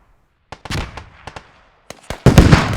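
In a multiplayer shooter match, RPG rocket fire and explosions come as a string of sharp, close blasts, scattered at first, then a bigger roaring burst at the end, with no talking.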